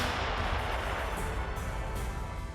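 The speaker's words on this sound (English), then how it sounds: "That was a precise hit with a mortar." A mortar round bursts on its target in a combat strike on a Russian convoy in Ukraine, a loud, dense blast with rumbling, sustained noise filling the whole moment.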